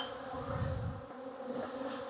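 Agitated honey bees buzz steadily around their hive after winter, a dense, continuous drone heard from a distance with no voices.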